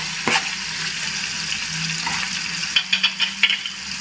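Onion drops into melted butter in a pan while cooking Mandhi rice, giving a steady moderate sizzle with a few clattering stirs and scrapes of a utensil near the end.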